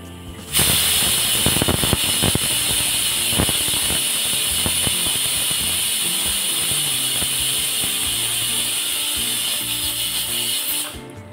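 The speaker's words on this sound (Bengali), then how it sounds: "প্রেসার কুকারের ঢাকনাটা বন্ধ করে মোটামুটি 2 থেকে 3টে সিটি দিয়ে নিলেই" A pressure cooker with mutton inside lets out a loud, continuous hissing whistle of escaping steam, starting abruptly and holding steady until it cuts off near the end, with rattling crackle over the first few seconds.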